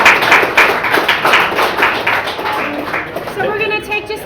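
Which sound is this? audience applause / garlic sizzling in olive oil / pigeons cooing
audience applause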